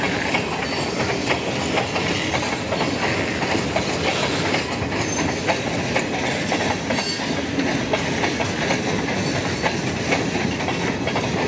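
A freight train hauling coil cars, led by an SD40-2 locomotive, rolls past nearby with loud continuous rumble and rhythmic wheel clatter over rail joints, plus faint squeals, without any talking.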